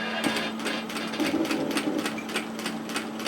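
A sewing machine runs continuously, stitching down a fabric pocket on a cocoon cardigan, with a rapid, even needle rhythm that is close and steady, with no talking.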